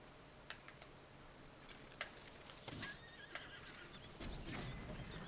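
A horse in the video game Breath of the Wild whinnies clearly amid scattered light clip-clop hoof ticks, the neigh rising in a shrill wavering call, with a deeper snort toward the end, all fairly faint and without voices.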